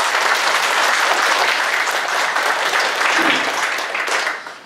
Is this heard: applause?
yes